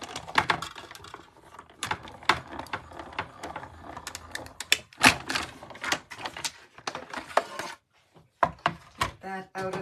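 A die-cutting machine works through a stack of 6x6 paper, giving irregular clacks, clicks and mechanical thuds in bursts with short pauses, fairly close and loud.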